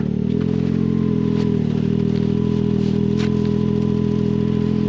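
A quiet four-stroke engine idling steadily, a low even hum with a faint mechanical clatter on top, running alone without talk and holding constant loudness throughout.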